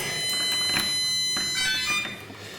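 An electronic alarm at a holiday park club building beeps in a shrill, high-pitched tone while the club is locked up, with a few rhythmic pulses over steady background noise.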